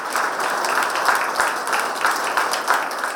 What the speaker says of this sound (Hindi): जोरदार तालियां इनके दोनों के लिए।